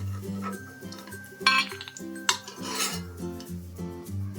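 Fried cashews and almonds are taken from a kadai onto a plate, giving several close metallic scrapes and clinks of a spoon against cookware and a steel plate over a low hum.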